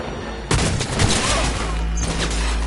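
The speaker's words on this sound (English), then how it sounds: "Heard shots." Gunfire in the video game Cyberpunk 2077 erupts as a sudden burst of rapid shots, then continues as a dense, loud rattle with booming low rumble, some voice-like sound mixed in.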